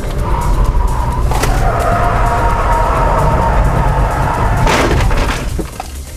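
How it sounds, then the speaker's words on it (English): Mitsubishi Evo 7 standard road car taking a chicane in fourth gear at 65 mph, off the throttle: loud, close engine and road roar with a droning engine note and scraping bursts, easing slightly near the end. "Standard road car this, we're going to go through this chicane, 4th gear, off the throttle, 65 miles an hour."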